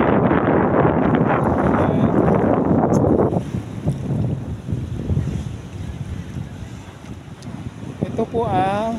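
Strong wind buffets the microphone in loud, roaring gusts beside the sea, with waves surging along a seawall; the blustery rush eases partway through and a faint voice sits under it.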